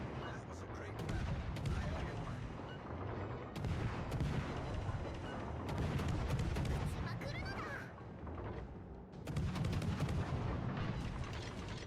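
Heavy warship main guns fire in a naval video game, a dense series of deep booming blasts and rumbling explosions across the whole stretch, with a voice talking over the gunfire.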